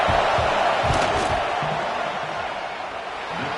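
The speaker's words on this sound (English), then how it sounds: "This crowd trying to do its part to get inside the kicker's head" A dense, roaring stadium crowd at a Texas vs UTEP football game, sustained and loud as it tries to rattle the kicker, with scattered shouts and whoops rising from the steady wash of noise.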